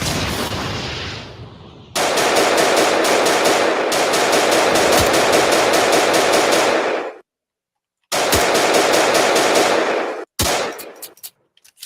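Gunfire in a war video game: loud, close bursts of rapid automatic fire, several long strings separated by short pauses, ending with a few choppier, broken bursts.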